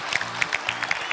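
Brief applause from a studio audience at a Turkish television competition show, a quick burst of scattered clapping heard at moderate level.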